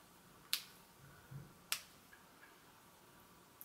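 Wig clips are unclipped with two small, sharp snaps about a second apart, quiet and close against a faint hiss.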